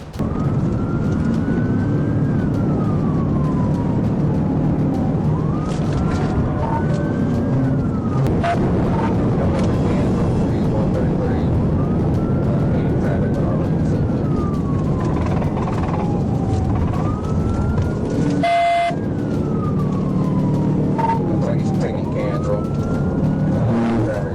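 A police car siren wails in repeated rising and falling sweeps, loud and close over steady engine and road roar throughout a high-speed chase through heavy traffic.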